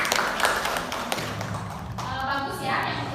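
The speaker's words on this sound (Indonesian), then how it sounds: "Oke, tepuk tangan untuk Sherly" Brief scattered clapping from a classroom applauding a student, sharp taps in the first second or so, then fading as voices of a teacher and children carry on.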